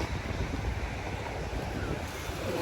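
Waves break and wash steadily onto a beach in Turkey, a broad continuous roar mixed with wind buffeting the microphone, with no talking.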